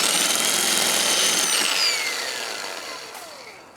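A power drill bores a hole into an oak tree while bracing a subsiding oak, giving a steady, close grinding whine that holds for a couple of seconds, then slowly fades and trails off as the bit winds down.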